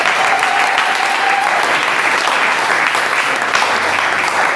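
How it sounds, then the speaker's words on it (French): Congregation applauding loudly in a church, a steady dense wash of clapping from many hands that holds at an even level throughout. "Est-ce qu'on peut acclamer très fort le Seigneur?"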